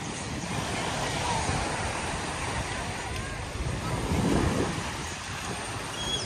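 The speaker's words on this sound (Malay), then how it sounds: "Cukup duduk diam, lalu menghayati ombak dan angin." Strong sea wind roars steadily across the microphone with waves washing in beneath it on the beach at Teluk Kemang, Port Dickson; the rush stays dense and constant, swelling slightly toward the end, with no clear talk.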